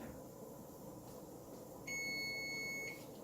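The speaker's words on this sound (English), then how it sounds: "So there's the timer for the chicken, or for the rice and meat." A kitchen timer for cooking chicken with rice and meat gives one steady, sustained electronic beep lasting about a second, clear and fairly close over a quiet room hum.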